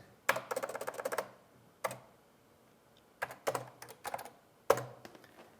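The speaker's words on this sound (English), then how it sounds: "And you are typing something" Keys clacking on a Pioneer PX7 MSX computer keyboard, close and crisp, a quick run of keystrokes followed by scattered single taps and short bursts with pauses between.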